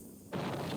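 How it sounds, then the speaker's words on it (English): An explosion from the film Pulgasari, a sudden booming burst that erupts abruptly and then sustains as a rumbling roar, heard at a moderate distance. "That was explosion."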